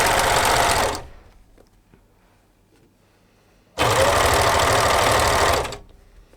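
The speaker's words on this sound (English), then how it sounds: "So I'm just going to do both inner leg seams, and then we're going to sew the crotch." A sewing machine stitching inner leg seams on jersey baby leggings runs in two loud, steady whirring bursts, about a second and then two seconds long, separated by a quiet pause.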